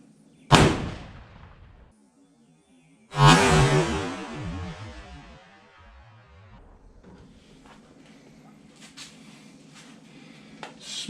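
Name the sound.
gunshot from a Mountain Rifle in 7mm Magnum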